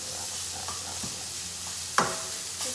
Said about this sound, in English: so we'll add in the sardine and we'll just mash them up a bit